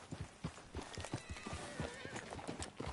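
In a video game, a horse whinnies over a steady clip-clop of hooves, fairly quiet and close by.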